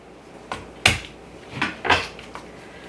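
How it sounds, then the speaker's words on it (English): Garlic dropped onto a kitchen surface while split pea and ham soup is being made, giving a few light separate clicks and taps, nearby and fairly quiet. "Dropping my garlic."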